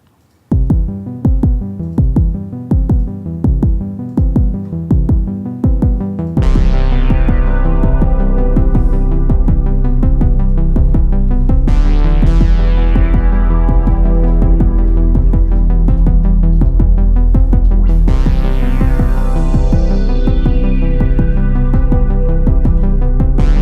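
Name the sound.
pre-recorded synthesizer melody of the Stranger Things theme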